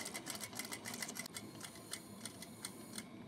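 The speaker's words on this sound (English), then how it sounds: "Okay, so I'm gonna sew the rest of the way down" A home sewing machine runs steadily while stitching the seam of a simple twilly-style fabric scarf, a quiet close rapid mechanical chatter with a regular pulsing rhythm and no voices.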